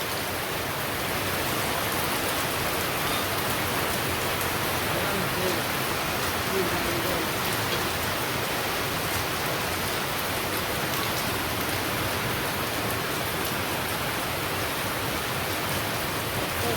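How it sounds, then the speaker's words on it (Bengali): Village rain falls steadily, a dense, even hiss of drops on surfaces that stays loud and continuous for the whole stretch, with no voices heard. "এইবারে মানে জুড়ি বৃষ্টি আসে আবার কমে যায়"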